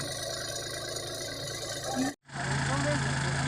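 A tractor engine drones and idles with low vibration while pulling a pickup truck out of a rice paddy, briefly cutting out before resuming a strong, even hum.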